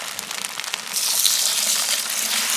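Water gushes steadily into a pot of onion and basmati rice for chicken biryani, a broad rushing pour that starts softly and swells louder partway through, with no voices.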